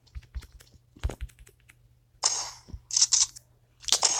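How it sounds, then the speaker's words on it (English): An empty pistol dry-fires in a video game, giving a scattered series of sharp mechanical clicks followed by a few louder, brighter snaps, close and alone with no talking. "Want to hear the sounds of a dead pistol?"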